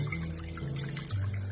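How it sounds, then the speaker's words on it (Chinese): Plenty of clean water poured into a large bowl over diced lotus root, a steady, close, fairly quiet pour with a rising tone as the bowl fills, no talking. "然后倒入多一点的清水没过莲藕"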